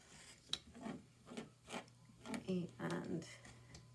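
A rotary cutter scrapes through quilt fabric along a ruler in a few short, soft rasping strokes, close and fairly quiet, with someone speaking quietly in between.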